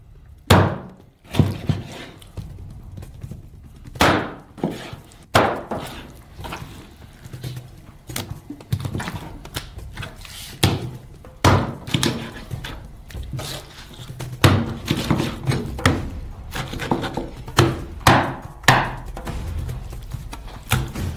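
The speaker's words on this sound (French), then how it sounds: "Il faut faire la même chose avec la carcasse de l'esturgeon. On l'utilise aussi pour la soupe. Nous le coupons en tranches égales." A heavy knife chopping a sturgeon carcass into even slices for soup, with repeated loud, sharp thwacks against a board at an irregular pace, some in quick pairs, and faint wet handling between strikes.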